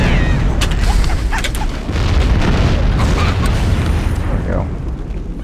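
A loud, rumbling explosion goes off inside the shooter game Halo: Combat Evolved, a sustained booming roar with scattered crackling bursts. It fills the whole stretch at close range, with dense game sound layered around it.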